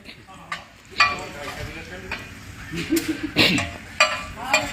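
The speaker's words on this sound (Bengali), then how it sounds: "করকরা ভাজা, মরিচ ভাজা।" Green chilies fry crisp in hot oil while a utensil stirs and scrapes the pan, giving a steady soft sizzle broken by several sharp metallic clinks; a voice may murmur faintly underneath.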